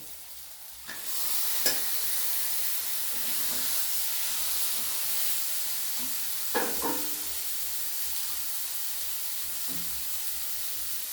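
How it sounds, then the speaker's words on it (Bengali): Chicken pieces go into a pan of fried spices, setting off a loud continuous sizzle and hiss with a few sharp scrapes and clatters from stirring. "মশলাগুলো আমার খুব সুন্দর ভাজা হয়ে গেছে, বেশ একটা সুন্দর গন্ধ ছেড়েছে। এবার আমি চিকেনগুলো দিয়ে দেবো।"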